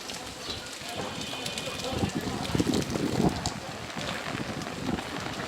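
Strong gusts on a rainy town street in Manikganj, with broadband roaring wind buffeting the microphone close up and rising midway; rain patters underneath.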